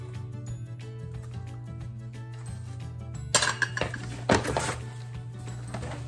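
Ceramic saucers, bowls and plates from antiques knock together as they are unpacked, giving two brief clattering clinks late on over a steady hum.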